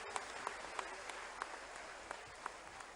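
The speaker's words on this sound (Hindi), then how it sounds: "दोनों हाथ से सब मिलके ताली बजा के बताओ कि सबकी राखी बन गई" An audience at a Raksha Bandhan event in Ujjain claps with both hands together, a faint, distant spread of applause with a few sharper claps standing out at irregular intervals.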